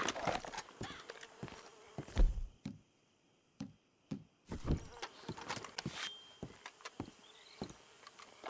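Horse hooves clip-clopping in Red Dead Redemption 2, irregular close hoof strikes and thumps with short pauses, over a faint buzz of insects.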